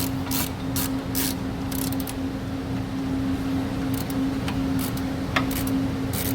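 A hand ratchet tightens bolts during front brake reassembly, clicking in short quick bursts separated by pauses, close and clear over a steady background hum.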